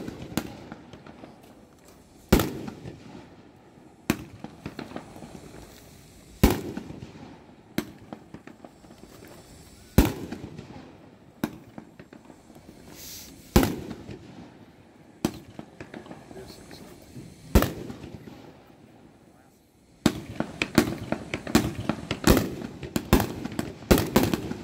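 A 19-shot Paparazzi firework cake at a fireworks expo fires sharp separate bursts spaced a few seconds apart, then a fast crackling volley near the end, with voices faint in the background.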